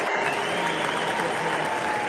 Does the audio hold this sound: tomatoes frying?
no